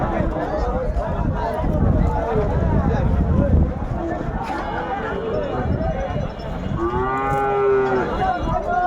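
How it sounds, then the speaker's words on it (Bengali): Cattle at a busy village cattle market, with several loud nearby moos rising over a dense crowd of chattering voices and shuffling livestock. "চলে এলাম আমাদের ৯ মাইল বাজার ভুলটিয়ার গরু হাটে।"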